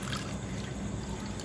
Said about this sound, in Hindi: बस 50 ml मैंने पानी ऐड किया है